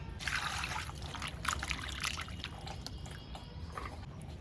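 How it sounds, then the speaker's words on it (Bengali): Running water trickles and splashes as cut pieces of thin kajoli fish are rinsed and handled in a vessel, a close, continuous wet splashing with shifting bursts and no talking. "এখানে মাছগুলোকে কেটে নিয়েছি, এখন ধুয়ে পরিষ্কার করে নেব"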